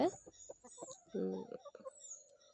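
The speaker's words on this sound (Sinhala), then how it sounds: "මේ ඉන්නේ මගේ කිකිලි හාමිනේලයි ටික." Backyard hens, three kept for household eggs, give a short burst of clucking in the middle, with a voice speaking nearby before and after.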